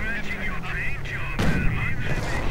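A King Tiger tank blasts away at riflemen in a World War II strategy game, with booming cannon shots and explosions mixed into battle noise while a commentator talks over it.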